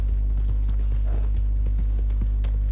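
Horse hooves clip-clop in Red Dead Redemption 2, a steady walking rhythm of soft hoofbeats over a loud constant low hum, with no talk.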